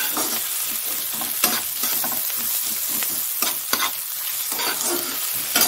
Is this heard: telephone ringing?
no